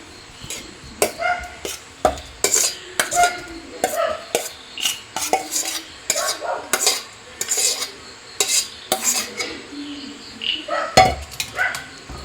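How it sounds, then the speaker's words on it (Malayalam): A spoon stirs a mashed mixture into chicken curry in a pot, making repeated scraping and clinking strokes against the metal in an uneven rhythm, close up and fairly loud, with quiet gaps between strokes. "നല്ല രീതിയിൽ ഒന്ന് മിക്സ് ചെയ്ത് കൊടുക്കണം"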